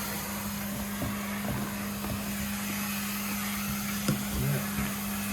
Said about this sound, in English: Vacuum the floor a bit because there's dust that got on the floor.